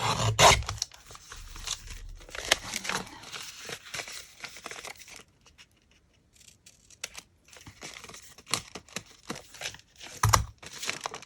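Paper envelope being cut with scissors, with crisp snips and crinkling paper handling in irregular bursts, loud and close, broken by a short quiet pause partway through.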